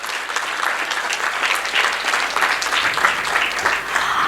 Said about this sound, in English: One big round of applause for Bollineni Medskills.